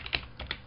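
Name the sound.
typing on a computer keyboard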